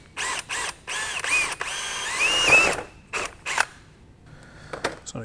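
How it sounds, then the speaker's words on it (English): A power drill bores four holes through a mounting template for a motorcycle tank bag ring, whining in several separate bursts, one longer sustained run in the middle, then shorter blips near the end, close and fairly loud. "using my drill bit, I want to drill out these 4 holes without moving this template"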